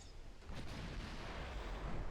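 Naval guns fire during a battleship engagement in Ultimate Admiral Dreadnoughts, a steady low rumbling barrage with a heavier boom about halfway through, sustained and moderately loud.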